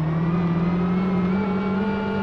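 A rally car engine in the rally video game SLRE drones steadily at a constant pitch, close and loud, with no speech over it.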